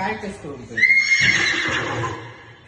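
A boxing arcade machine sounds out a horse's neigh: a bright, wavering electronic whinny swelling loud for about half a second in the middle, over a noisy room where people keep talking.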